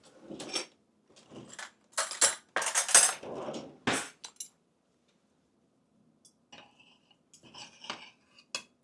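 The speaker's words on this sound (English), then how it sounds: "let's cut into our first omelet and see what we got" A utensil cuts into a Denver omelette on a plate, giving a cluster of sharp clinks and scrapes of cutlery against the dish, then a pause and a few quieter taps and scrapes.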